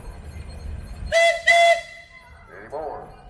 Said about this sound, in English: do you have a whistle?